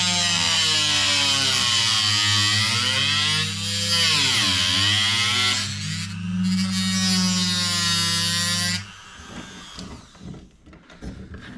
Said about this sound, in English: Important thing when using the Dremel to cut the rail is not to press too hard